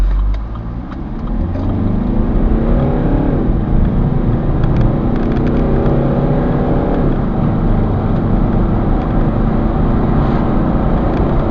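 A 2007 Land Rover Freelander HSE TD4 2.2 diesel revs up hard during a 0 to 60 acceleration test, steadily climbing in pitch through the gears, loud and continuous from inside the vehicle.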